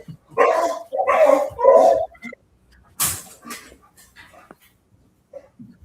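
Dog barking indoors on a live broadcast set: three loud barks in quick succession, then quieter yips and scuffling sounds.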